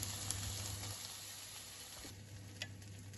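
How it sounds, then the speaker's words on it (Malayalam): Mustard seeds crackle and splutter in hot oil as a tempering for a Kerala-style mango curry, a steady close sizzle with scattered small pops and no talking. "കടുക് പൊട്ടിച്ച് ഇതിലേക്ക് ആഡ് ചെയ്യാണ്."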